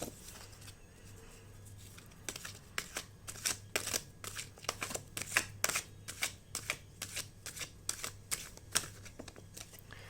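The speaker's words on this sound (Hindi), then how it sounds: "मैं अच्छे से पहले शफल कर देती हूँ।" Tarot cards being shuffled by hand in a steady run of crisp, riffling flutters and taps close to the mic, with a low steady hum underneath and no talking.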